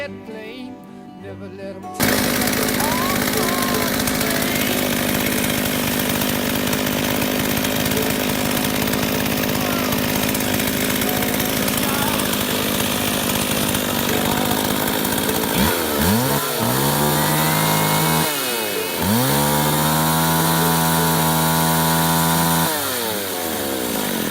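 A chainsaw with a faulty chain brake starts up and runs loud and close at a steady high whine, then revs up and down several times near the end.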